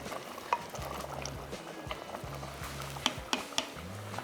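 A spoon scrapes and clinks through thick chicken handi gravy in a pot, with soft sloshing, a low rhythmic rumble and a few sharp metallic taps, steady and close with no voices.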